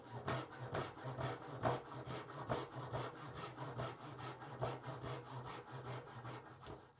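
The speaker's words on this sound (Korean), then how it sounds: "요 앞에 부분은 나중에 끌질의 편리성을 위해서 톱질을 조금 더 넣어 놓겠습니다" A hand saw cuts a wood joint for a mortise and tenon, close and alone, in steady back-and-forth strokes with a rhythmic rasping pulse.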